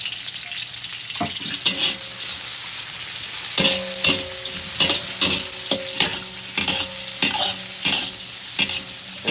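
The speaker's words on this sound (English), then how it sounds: "Just need to fry little bit brown, okay? Yes. And some garlic." Garlic fries in a pan of browning onion for Indonesian mie goreng, a loud, close sizzle with repeated metallic spatula clanks and stirring strokes throughout, with no one speaking.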